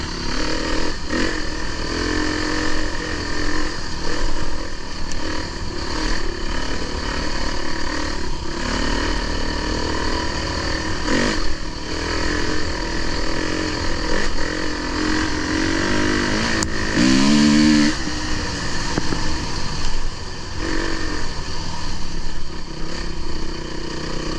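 A loud enduro motorcycle engine roars continuously at high revs on a dyno, steady and close, with small surges and mechanical rattle throughout.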